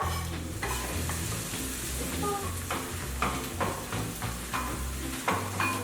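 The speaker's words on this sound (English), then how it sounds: "Use that oil to stir fry chopped garlic," Chopped garlic, shallot and lemongrass stir-fried in hot annatto oil, a steady close sizzle with repeated scraping strokes of a utensil against the pan throughout, under a low background hum.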